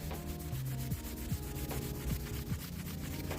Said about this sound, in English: So just scrubbing, pretty good pressure.